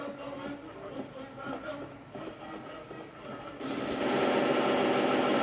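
Rapid machine gun fire in a PC shooter game rattles in dense mechanical bursts, swelling into a loud, continuous roar over the last couple of seconds.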